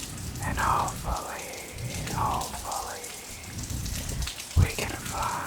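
Steady soft rain patters close by at low volume, with faint whispering drifting under it and a brief sharper tap near the end.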